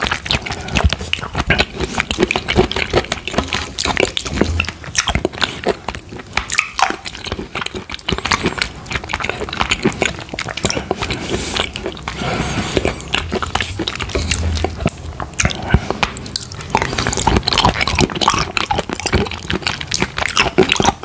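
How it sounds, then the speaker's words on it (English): Close-up eating of Kingo lychee pudding with nata de coco, continuous wet, squishy chewing with frequent crunchy bites and slurps, loud and near throughout with no talking. "I like the crunchiness of the coconut nata."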